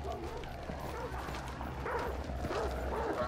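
Dogs bark in a dark frontier setting in the game Hunt: Showdown, a steady scatter of barks and yips under a constant low ambient rumble, with a voice talking faintly throughout.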